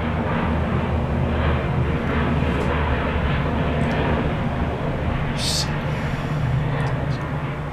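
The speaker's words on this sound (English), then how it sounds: "Every time I come out here, it's a random ass airplane and all the time just interrupts me." An airplane flying overhead outdoors, its broad, steady roar loud and continuous throughout, with brief faint sounds on top.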